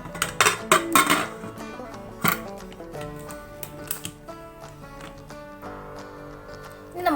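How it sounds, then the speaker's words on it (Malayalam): A metal pressure cooker holding mutton chops with spice powder, salt and water is shut, giving a run of close, sharp clinks and rattles of lid against pot, followed by quieter scrapes. "ഇനി ഇതൊന്ന് അടച്ചു വെക്കാം."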